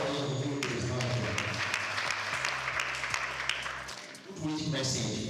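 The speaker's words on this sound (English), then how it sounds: "Let's clap for you who is not here." Audience applause at a conference, a sustained, fairly loud wash of clapping from a crowd that fades briefly near the end before picking up again.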